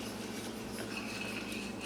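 A whisk stirs almond milk into a thick flour mixture for a homemade cream soup, giving a soft, continuous rubbing and scraping close by, low in level and without speech.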